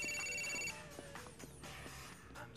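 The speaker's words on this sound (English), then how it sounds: "The phone's ringing." Inside the video game GTA 4, a phone rings with a steady electronic tone that stops after under a second, followed by faint clicks and soft background game ambience.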